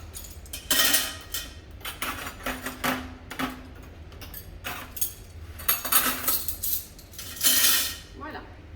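Cutlery and plates clinking and scraping as they are handled and wiped for cleaning in a restaurant setting, a run of close, bright clatters in bursts over low background hum.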